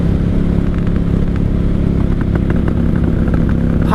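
A 1995 Honda Shadow VLX 600 (VT600CD) V-twin rumbles loudly at speed on the road, with sharp pops and crackles scattered through the steady engine drone and wind noise.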